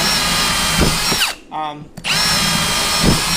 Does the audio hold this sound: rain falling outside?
no